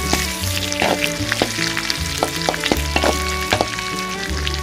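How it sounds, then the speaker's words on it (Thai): Dried chilies roast in a hot pan with a loud, steady frying crackle, punctuated by regular sharp knocks and scrapes as they are moved around. "เราก็จะคั่วพริกแห้งก่อนนะคะ"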